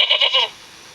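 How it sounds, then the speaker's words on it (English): A goat bleats in a short, wavering run of pulses for about half a second, then near silence follows. "Which of these is the sound that a real goat makes?"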